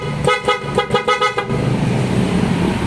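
A loud PIAA car horn on a Suzuki DA64 honks in a rapid series of short blasts, then a sustained engine and road noise continues after the honking stops.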